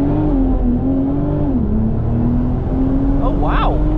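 A BMW Z4 M40i LCI accelerates hard from launch on the Autobahn, its engine tone climbing and settling in a steady loud drone with a brief whooshing sweep near the end.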